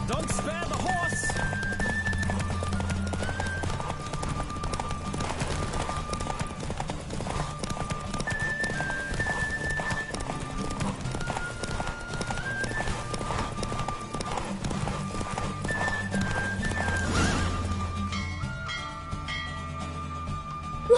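Steady galloping hoofbeats in a Witcher 3: Wild Hunt horse race continue beneath looping game music, with occasional brighter tones; the music drops away near the end, and no clear neigh stands out.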